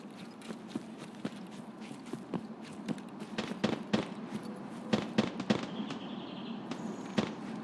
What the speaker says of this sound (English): They're shooting at the BTR.